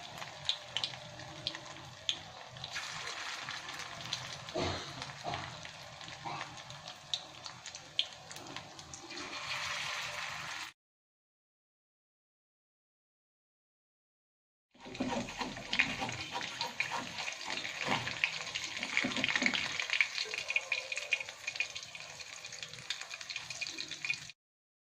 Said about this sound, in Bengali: এখন আমি এটা তেলে ভাজবো। তেলে ভাজা টোবা হবে এটা।